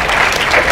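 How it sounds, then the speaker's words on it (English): An audience claps during a talk by Sadhguru at the University of Toronto, a brief, loud burst of dense applause filling the hall for under a second. "You're clapping at my failures."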